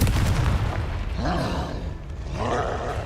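A Confringo fire-blast spell in the video game Hogwarts Legacy bursts out as a low booming roar over rumbling game background, with a second blast swelling near the end and a voice briefly calling out between them.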